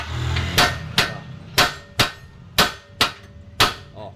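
Seven sharp metallic hammer blows strike a Hyundai Starex steering spindle to free the rack end, evenly spaced about half a second apart, loud and close with ringing decay.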